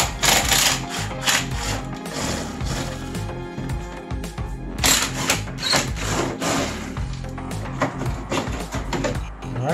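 A driver turns T25 Torx screws on the bumper of a 2002 Arctic Cat ZR 600 EFI snowmobile, giving close, continuous scraping and rattling with rhythmic tool rubbing and taps and no talking.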